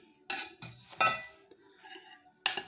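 Cucumber cubes being mixed in a tandoori-spiced marinade, with a spoon clinking against a bowl in a handful of sharp, irregular strikes and scraping stirs, close by.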